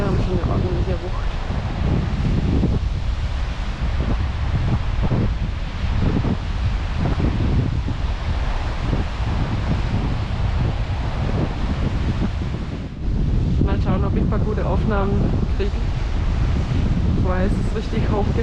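Strong wind roars across the microphone while ocean waves crash and surge nearby on the coast at Muxía, Spain, with voices faintly audible beneath the steady rush.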